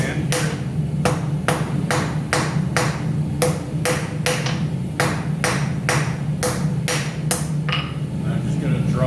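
A hammer forging one end of an 8-inch flat bar into a long taper on an anvil, a close, loud run of ringing blows in a brisk, steady rhythm with brief pauses.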